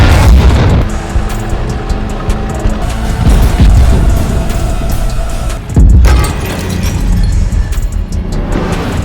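Tank gunfire exchange in a WWII battle, with heavy booming blasts and rumbling explosions filling the space almost continuously, loud and close, with a brief lull before another strong impact.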